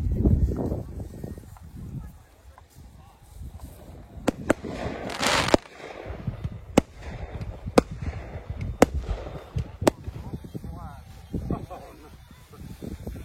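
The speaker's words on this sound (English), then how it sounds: "Line up on the line here till they blow off the cannon and say go." A cannon is fired to start a seated hunt at the Digstock 2021 event, heard as a broad blast among a series of sharp, loud cracks, with voices and outdoor crowd noise around them.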